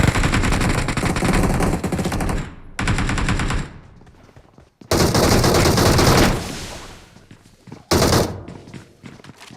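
Loud bursts of rapid automatic gunfire in a video game, several long volleys separated by short gaps, with sharp echoing reports up close.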